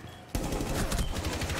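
Automatic gunfire in the video game Rainbow Six Siege bursts in after a short quiet moment, a loud, rapid, unbroken stream of shots held at close range to the end.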